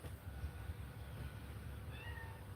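A cat meows, wanting to come out. A faint, short meow rises near the end over a steady low rumble, with no talk.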